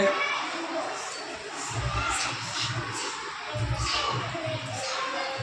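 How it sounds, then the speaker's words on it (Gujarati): Schoolchildren in a classroom clap their hands in a few short, ragged bursts among excited shouting and chatter, fairly close and moderately loud. "સરસ, તાળી પાડો."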